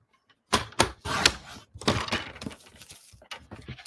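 Card stock being cut with a paper trimmer blade at close range: a few sharp slicing and snapping strokes in quick succession, then a softer dragging scrape that fades out, with no speech.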